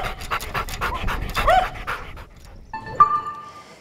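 A dog pants in quick, close, rhythmic breaths at a dog daycare, followed by a brief whimpering whine near the end.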